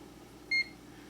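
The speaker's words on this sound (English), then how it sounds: "there's moon pie going into the microwave" A microwave oven about to heat a Moon Pie gives a single short electronic beep midway, faint and alone over a quiet low hum.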